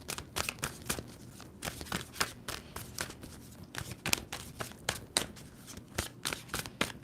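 A tarot card deck is shuffled in quick rhythmic bursts of riffling and flapping cards, close and fairly quiet, with no talking.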